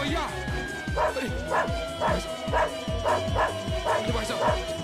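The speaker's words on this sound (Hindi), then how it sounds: "अरे भैया, कोई ये कुत्ते को रोको भैया।" A dog barks repeatedly in quick, insistent yips and bow-wows, close and loud, with a frightened person's voice talking over the barking.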